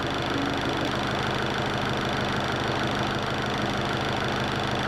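A Mahindra YUVO 575DI tractor diesel engine idles in a steady, continuous low rumble, close and loud, with no talk over it.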